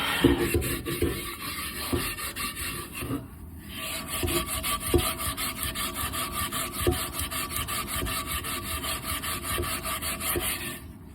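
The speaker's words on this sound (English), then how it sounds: "throw some baking soda in here and start scrubbing" Rusty cast iron is scrubbed hard with baking soda, giving a continuous gritty rasping with a steady back-and-forth rhythm, close and fairly loud, with no voices.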